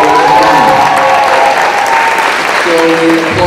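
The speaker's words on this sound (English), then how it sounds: "So we applaud all of you and thank all of you for your commitment to West Prairie." Dense audience applause fills a school recognition event at West Prairie, steady and loud throughout with faint crowd murmur and a sustained musical tone underneath.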